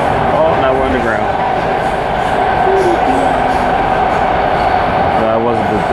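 A Washington D.C. Metro train running through an underground tunnel, a loud steady rumble and roar heard from inside the car with occasional squeals, while someone talks over it.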